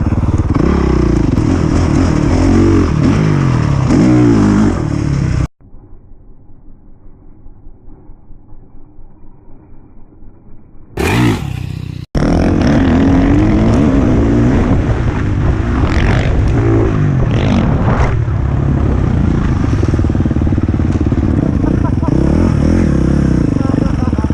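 A Honda CRF450R dirt bike engine revs hard and close on a backyard supercross track, its rasping snarl rising and falling. It cuts out for several seconds into near silence, then roars back at full revs.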